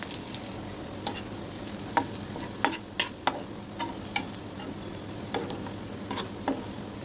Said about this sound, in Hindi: अब कटी हुई अदरक और लहसुन डालेंगे और 1 मिनट तक फ्राई करेंगे।